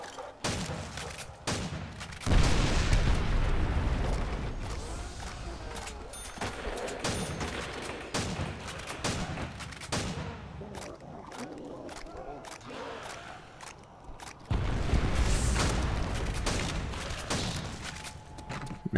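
Rapid gunfire from a modern weapon in World at War's Nacht Der Untoten zombies map, dense volleys of shots with loud bursts near the start and again toward the end, over a busy battle din.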